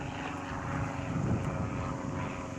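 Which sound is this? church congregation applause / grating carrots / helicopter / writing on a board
helicopter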